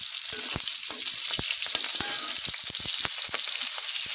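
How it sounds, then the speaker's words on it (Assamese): Chopped onions fry in hot oil in a continuous close, loud sizzle, with crackles and light stirring knocks scattered through it. "তেলটো গৰম হৈ গ'ল। এতিয়া মই কাটি থোৱা পিঁয়াজখিনি দি দিলোঁ"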